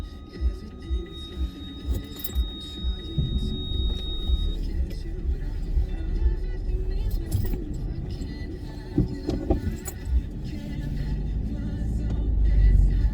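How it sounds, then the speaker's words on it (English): A car engine runs low and steady while the car backs up, with soft rumbling and intermittent jangling, and a faint radio in the cabin. "And the sound you can hear in a minute is my car"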